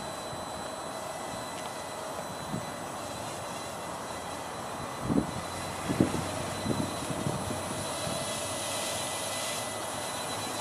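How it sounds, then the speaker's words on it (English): A small Walkera LadyBird beginner quadcopter hovers with a steady, faint high-pitched whine of its motors, with a few soft knocks partway through and no talking. "this is an extremely stable beginner quadcopter"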